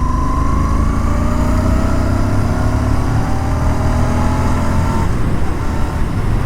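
A Royal Enfield Interceptor 650 motorcycle engine accelerates up close, a loud, steady drone climbing smoothly in pitch for about five seconds before settling.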